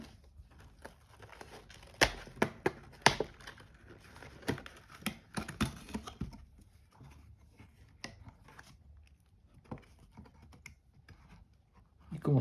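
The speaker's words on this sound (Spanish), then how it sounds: "vamos a remover lo que es el sello protector" A protective plastic seal is peeled and torn off a box of Panini World Cup sticker packets, giving close crinkling, crackling and tearing bursts in irregular clusters with quieter pauses between.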